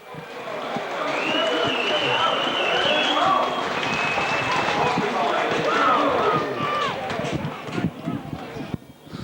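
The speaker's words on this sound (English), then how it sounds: "and the crowd like it." Rugby league crowd at a Barrow versus Hunslet match cheers and applauds in a sustained, loud roar lasting several seconds, with a commentator talking over it before it thins out.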